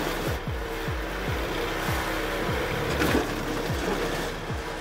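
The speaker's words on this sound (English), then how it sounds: "With a capacity of 16 horsepower, the IM80TR branch chipper cuts other wood into billets up to 120" A 16-horsepower IM80TR branch chipper runs with a loud, steady mechanical drone, its blades striking in a regular rapid rhythm as branch wood is cut into billets; no voices.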